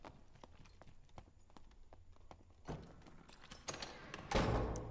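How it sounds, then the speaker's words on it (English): Footsteps in the dungeon video game Dark and Darker, a slow series of faint, evenly spaced thuds, then heavier, louder steps and bumps crowding in toward the end. "I hear other footsteps here."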